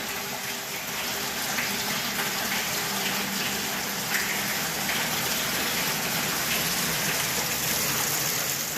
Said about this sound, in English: The water going in.